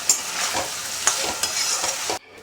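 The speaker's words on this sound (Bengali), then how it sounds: "এখানে হচ্ছে ডিম আলু কষা, এখানে আলু কষানো চলছে" Potatoes sauté in a pan for a spicy egg and potato curry, with a continuous oily sizzle and repeated scraping stirs of a spatula, close and loud until the sound cuts off near the end.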